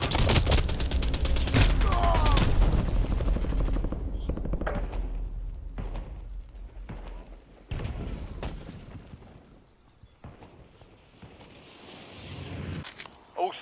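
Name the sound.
gunfire in a Warzone video game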